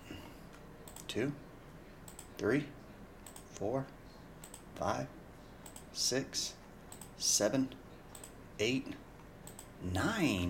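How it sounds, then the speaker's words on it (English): A computer mouse clicks about nine times at an even pace during a 2021/22 Panini Prizm NBA basketball card box break, each click coming between numbers counted aloud by a voice. "We're gonna click it 9 times."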